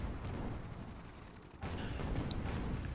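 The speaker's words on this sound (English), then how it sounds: "as there are some Flak shots and a mine going out" Flak shots and an exploding mine in a team space-combat video game match, heard as a dense, rumbling barrage of dull booms with a sharper burst partway through, loud and continuous.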